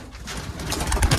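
Pigeons coo softly in a loft kept for racing, a low murmuring burble that swells slightly toward the end with no talk over it.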